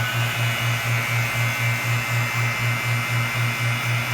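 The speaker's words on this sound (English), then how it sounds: "Let's go ahead and turn the vacuum pump on. It's going to get a little bit noisy." A steady mechanical motor hum with a regular pulsing throb, loud and continuous, from a vacuum pump running close by.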